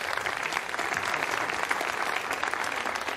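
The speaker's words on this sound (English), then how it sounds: "And you hear the applause." Applause breaks out in a spaceflight control center after confirmation that the OPS-SAT and EyeSat satellites have separated from a Soyuz rocket, a steady, dense wash of clapping holding for a few seconds.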